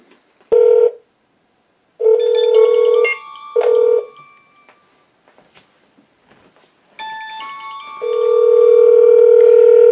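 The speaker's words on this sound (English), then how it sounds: "Alright, so now this phone is ringing." A phone rings on a VoIP line through an adapter: a short electronic ring, then two longer ring bursts, a pause and a final sustained ring, all close and clear.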